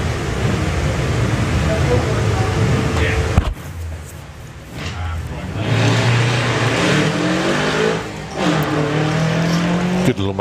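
Volkswagen Beetle and Toyota Supra launching side by side on a drag strip at a Beetle show, loud engine roar and revving with an abrupt cut, then further surging engine notes, with commentary talk over it.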